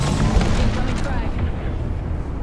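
A frag grenade explodes in a military shooter video game, a loud broadband blast with a sustained rumbling roar filling the whole moment.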